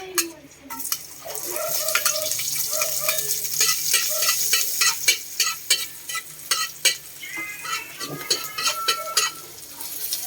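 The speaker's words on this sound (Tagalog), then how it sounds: "Kung gigisahin na natin yung sibuyas, kamatis at bawang luya." Onion, tomato, garlic and ginger sauté in a pan for tilapia, a steady close sizzle with scraping stirs and light clinks of utensil on metal throughout, no talking.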